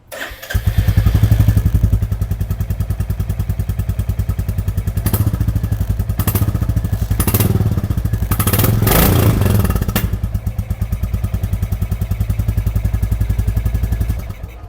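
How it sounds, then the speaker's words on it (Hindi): A retro-style Royal Enfield Bullet 350 Battalion Black motorcycle idles with a steady, loud exhaust throb, revving up in several short bursts midway before settling back to idle. "इसका एग्जॉस्ट भी आपने चेक किया"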